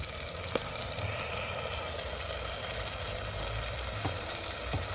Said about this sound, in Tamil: தக்காளி வெங்காயம் எண்ணெயில் வதங்கி வந்துருச்சு